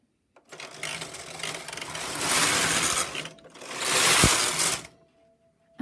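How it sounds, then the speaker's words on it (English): A Brother knitting machine carriage sweeps across the needle bed in two long, loud rattling passes, working rows of birdseye pattern with a short pause between strokes, close up and with no talking. "And I'll keep knitting a few rows and I'll show what it looks like when I take it off the machine."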